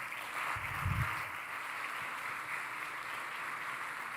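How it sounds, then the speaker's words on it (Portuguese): Soft, distant applause from a church congregation during a worship service, a faint continuous patter of clapping with a low thump near the start. "Aplauda ao Senhor."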